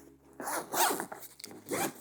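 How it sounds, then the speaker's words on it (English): A zipper on a Bellroy Transit Workpack AquaGuard backpack is pulled in a few quick, smooth rasping strokes, close and fairly quiet, with no talking. "how smooth these zippers are"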